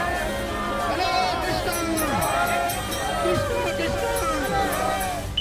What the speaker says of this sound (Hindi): हर तरफ सिर्फ और सिर्फ सनातनियों की भीड़ है